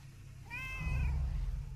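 A single drawn-out cat meow from World of Warcraft over a steady low hum and background music, clear and close.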